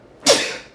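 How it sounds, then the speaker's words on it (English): A single loud, close sneeze bursts out suddenly after a moment of quiet and trails off over the next half second. "Oh, I gotta sneeze."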